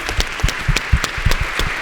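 Applause for a panel at a wellness conference, a moderate steady patter of clapping with a few louder individual claps and low thumps standing out close by.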